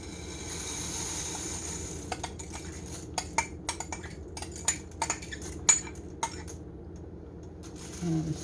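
A spoon stirs goulash in a pot, giving a run of light clinks and taps of metal against the pot that come in irregular bursts over a quiet background.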